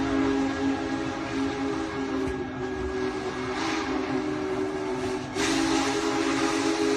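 A massive 1941 steam locomotive, 122 feet long and weighing 1.2 million pounds, sounds a long, steady, multi-tone whistle over a rumbling background, loud and sustained, briefly dipping before resuming at full strength.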